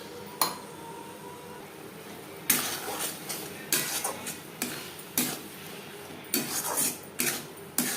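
A spoon works mustard, garlic and green chilli paste into soft onion and tomato in a pan, giving a series of sharp metallic scrapes and clinks in irregular bursts over a quiet background.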